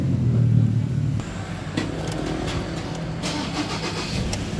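A car engine turns over and catches on a single turn of the key, then settles into a steady running hum.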